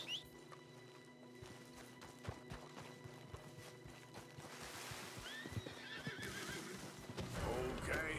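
A horse whinnies loudly and close by in Red Dead Redemption 2, with clip-clop hoofbeats and running movement as game sounds swell underneath and a person talks.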